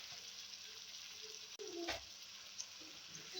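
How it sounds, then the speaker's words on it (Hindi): Chicken liver is added to softened onions frying in a pan for masala kaleji. The sizzle is quiet and steady, with one brief stir and a small clatter partway through. "तो अब हम इसमें कलेजी डाल देंगे"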